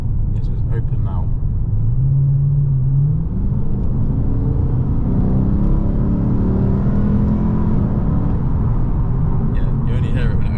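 Lexus RC-F with a PowerFlow custom stainless valved exhaust, valves open, drives past with a deep rumbling engine note that swells and steadies, heard from nearby with people talking over it.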